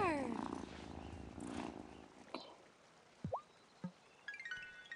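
A cat purrs softly in the video game Wylde Flowers, a low continuous rumble at first with a few short game sound effects and chimes following.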